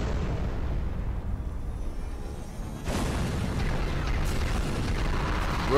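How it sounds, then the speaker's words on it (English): Shooting in a Skibidi Toilet animation comes as a loud, continuous rumble of booming blasts, and a sharper burst cuts in about halfway through, with no one talking. "Where are they shooting at?"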